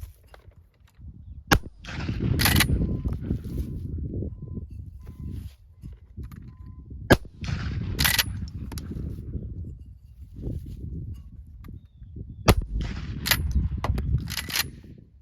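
A Winchester 1897 pump-action shotgun having its action worked repeatedly, sharp metallic clacks of the slide cycling at intervals between longer sliding, rattling movements, close up with no talking.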